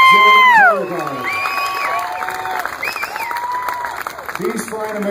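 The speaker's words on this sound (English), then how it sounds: "let's have another great round of applause for the NORAD U.S. North Command Joint Color Guard" A crowd applauds and cheers for a military joint color guard at a Memorial Day ceremony, with voices whooping and shouting over steady clapping throughout.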